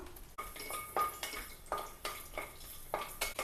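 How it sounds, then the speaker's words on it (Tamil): A metal utensil scrapes and stirs cashews roasting in a pan, with light frying sizzle underneath, steady irregular clinks, close by, no talking. "இப்போ கொஞ்சோண்டு முந்திரி எடுத்து வச்சுருக்கேன் அதை வந்து வறுத்துடலாம்"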